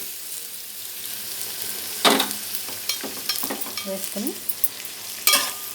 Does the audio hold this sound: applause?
no